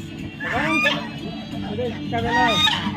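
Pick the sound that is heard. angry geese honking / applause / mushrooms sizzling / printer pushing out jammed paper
angry geese honking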